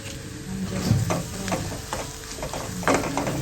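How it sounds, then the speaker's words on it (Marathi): Potato pieces coated in masala and Maggi masala fry in oil while a spoon stirs them. A soft, steady sizzle runs under scattered scraping clicks from the spoon against the pan, fairly close, with no voices. "सगळा मसाला बटाट्यामध्ये मिक्स करायचा तेलात पूर्ण फ्राय"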